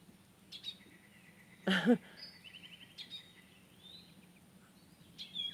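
Birds chirp outdoors in a few short, faint calls scattered over a steady background hiss, with one brief louder sound partway through.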